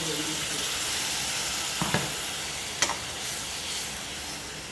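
A ground coconut masala poured into sautéed onion and tomato, making a faint steady sizzle with a couple of brief soft splashes and clinks in a quiet kitchen.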